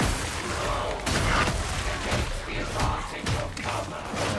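Gunfire in the Dune video game: a busy battle mix of rapid shots, thuds and booms that crowd over each other, with a few sharper bursts standing out against continuous rumbling action.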